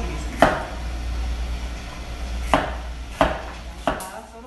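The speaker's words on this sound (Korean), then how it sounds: "양파 썰어주시고요." A knife chops onion on a cutting board, for a stir-fried squid dish, with four sharp, spaced knocks against a low steady hum.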